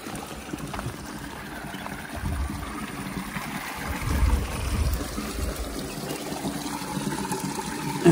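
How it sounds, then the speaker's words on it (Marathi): Hot spring water flows steadily out of a stone tank at a natural hot-water spring in Sangmeshwar, a continuous close trickle and gurgle with a louder surge near the middle, no voices. "हे कोंडातून इथून वाहतं पाणी आहे, या बाजूने असं बाहेर येतं."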